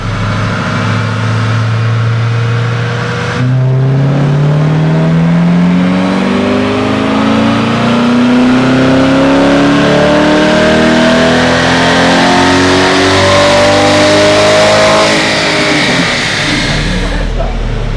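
Corvette C8 V8 with a custom exhaust revs hard and repeatedly, pitch climbing and falling through several loud sustained pulls, with people talking over it.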